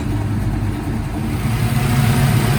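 A Chevrolet Camaro engine runs on a test drive, a steady, loud, close-up rumble with a faint rise in intensity toward the end.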